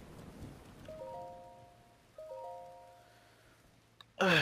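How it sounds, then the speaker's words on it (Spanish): Soft, steady rainfall in The Legend of Zelda: Breath of the Wild plays low beneath clear chiming game-music tones, with a sudden louder burst of noise at the very end. "Mejor me espero a que deje de llover."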